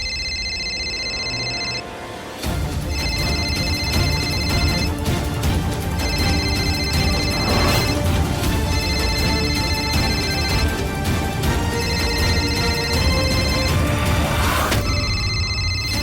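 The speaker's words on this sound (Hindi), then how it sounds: "रिंग का आवाज तो सुनाई दे रहा है।" A mobile phone rings with a repeating electronic ringtone, its tone bursts recurring steadily over a dense background of dramatic music in a Hindi TV serial scene.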